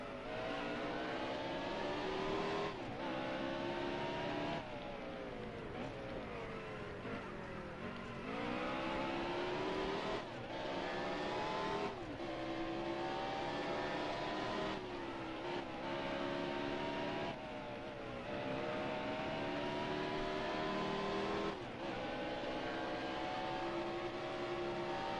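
A NASCAR stock car racing at Sonoma in NASCAR Heat Evolution: a steady, fairly quiet engine note that repeatedly climbs in pitch and drops sharply at each gear change, rising and shifting through a lap with no talking.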